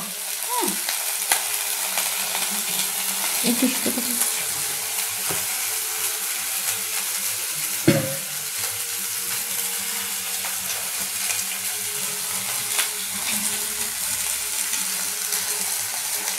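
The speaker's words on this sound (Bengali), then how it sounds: "তো বন্ধুরা আমরা দেখতে পাচ্ছি মাছ ভাজা অলরেডি শুরু হয়ে গেছে" Fish frying in oil in a pan, a steady close sizzle with a few clattering knocks and utensil scrapes scattered through it, mostly even in level.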